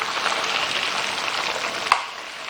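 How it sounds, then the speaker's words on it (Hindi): Lemon-marinated chicken deep-fries on a slow flame, Al Baik style, with a dense, steady frying hiss close by and one brief click near the end. "स्लो फ्लेम पर हमने इसको अच्छी तरह से फ्राई कर लिया है"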